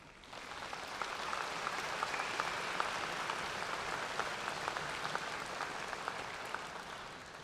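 A steady, dense round of applause from a commencement ceremony audience continues evenly throughout, with no clear voices over it.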